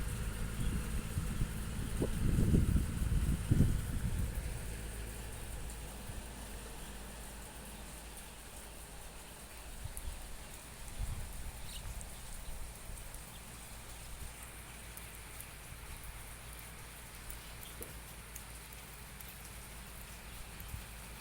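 Steady rain patters softly and continuously, with a few louder low thumps early on and no voices.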